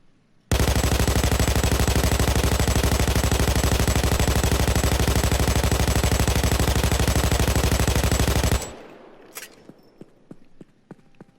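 An RPK light machine gun in Payday 2 firing full auto, a loud, unbroken stream of rapid shots for about eight seconds, then an abrupt stop followed by a few faint clicks and rattles.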